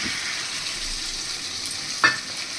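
Mustard paste with green chilli and oil frying in a pan while being stirred, a steady bright sizzle with one sharp utensil knock near the end.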